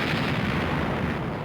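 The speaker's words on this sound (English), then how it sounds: "the Union warships opened fire on Fort Clark" Union warships fire cannon on Fort Clark in a Civil War bombardment in North Carolina, heard as a loud, dense, continuous roar of booming artillery with no voices.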